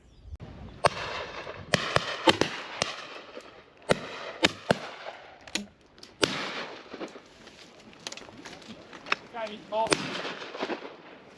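Shotguns fire at a simulated game clay shoot at a farm sporting club in Patson Hill, with many sharp reports, some near and loud, others more distant, spread irregularly among murmured talk.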